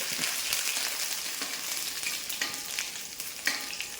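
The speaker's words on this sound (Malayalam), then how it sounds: "ഇത് രണ്ടും നമ്മൾ ആദ്യം ഇട്ട് കൊടുത്ത് ഒന്ന് മൂപ്പിക്കുന്നുണ്ട്" Crushed garlic and ginger frying in hot oil, a dense continuous sizzle close by with occasional soft stirring clicks, no voices.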